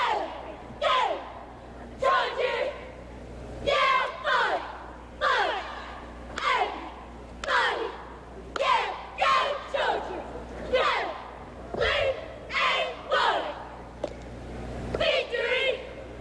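A high school cheerleading squad at the 1987 UCA Nationals yells a cheer in unison, loud rhythmic shouted phrases repeating in regular bursts about a second apart.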